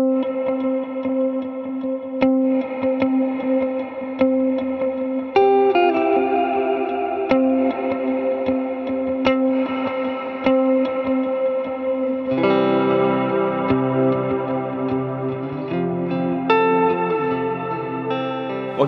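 Electric guitar run through the fourth HX Stomp amp preset, a lighter overdriven tone with echo and chorus-like shimmer, picking notes and chords over a steady held note, moderately loud throughout with no talking.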